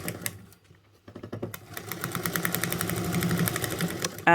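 A sewing machine stitches a bag from the lining side at a 3/8 seam allowance, starting with a few short bursts before settling into a steady, rapid mechanical chatter, fairly close, with a brief louder clunk at the end.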